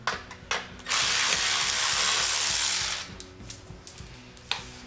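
Ratchet wrench with a 10 mm socket working on an e-bike, a seat bolt being loosened: a long, loud, steady ratcheting run of about two seconds, close by, with a few single clicks before and after.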